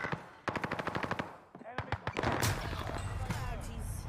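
Rapid automatic gunfire in the Caldera video game, loud, close bursts of shots with brief pauses, then a denser stretch of firing mixed with echoing impacts.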